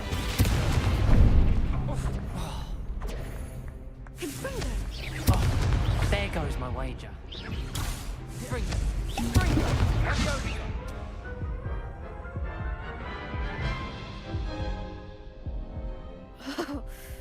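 Confringo fire-blast spells from the Hogwarts Legacy video game burst in repeated loud, crashing booms during a spell duel, with game music and speech running underneath and a sharp final crack near the end.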